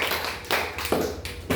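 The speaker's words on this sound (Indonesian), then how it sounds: "Oke, kasih aplaus." Applause in a classroom during a high-school-level teaching competition in Muaro Jambi: several short bursts of clapping at moderate distance, with a few brief pauses between them and no voices.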